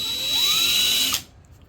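A power drill whines steadily and grinds up in pitch for about a second while drilling metal on a Grizzly belt grinder, then cuts off abruptly into near silence.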